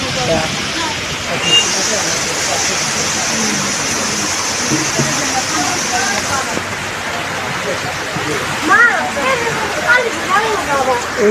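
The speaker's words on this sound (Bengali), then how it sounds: "বৃষ্টি পড়তেছে অনেক জোরে আর আমরা তার মধ্যে অনেক জায়গায় কেক পাইছি।" Heavy rain pours down in a loud, dense, steady hiss outdoors, with water rushing and splashing continuously throughout; no speech is heard, just a constant wash of rainfall with brief higher-pitched squeaks near the end.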